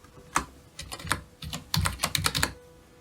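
Quick, irregular clicks of typing on a computer keyboard, a short burst of keystrokes tapped close by with no talking.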